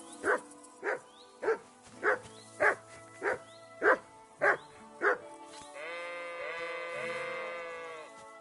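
A dog barks in Kingdom Come: Deliverance II, about nine sharp, evenly spaced barks, then a sustained whining or howling tone with no talk.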